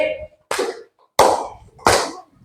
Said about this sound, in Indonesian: Bapak bilang 2, kalian tepuknya 2 kali